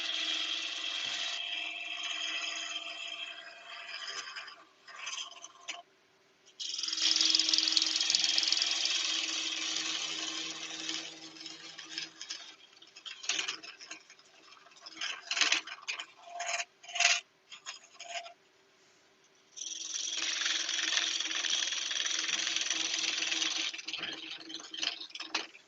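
A sharp 3/8 bowl gouge cuts yew on a wood lathe, giving a rasping, hissing cut that swells and breaks off in bursts while the lathe keeps humming underneath.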